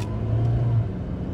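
A Volkswagen Beetle with a 2.0 engine and an automatic transmission pulling in first gear, a loud, close, steady engine hum that swells briefly, with no talking.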